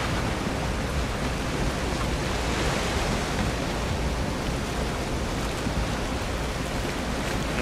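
Ocean waves in the video game Valheim, a steady broadband wash of surf and water noise that stays loud and constant throughout, with no speech.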